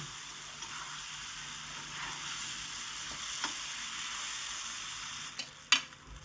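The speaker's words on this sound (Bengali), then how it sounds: "আলুটা দিয়ে মশলাটার সাথে আবার দু মিনিট আমি কষিয়ে নেব" Fried potatoes are stirred into a sautéing spice paste in a pan, a steady close sizzle with a few spatula scrapes and a sharp clank near the end, no talk.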